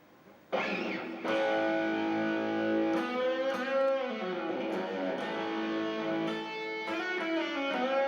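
Electric guitar with a heavy distorted rock tone, sustained chords and bends ringing loud and close after a quiet start, with no talking over the playing.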